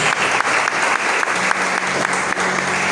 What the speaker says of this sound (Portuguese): dando uma salva de palmas bem grande para Jesus